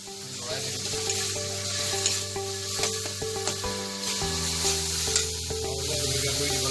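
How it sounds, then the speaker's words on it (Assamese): Cumin and coriander powder being stirred through hot oil in a curry pan for egg curry, a steady close sizzle with soft scraping strokes and a low musical hum running underneath throughout. "ভালদৰে মিশ্ৰণ হোৱালৈকে লৰাই থাকিম"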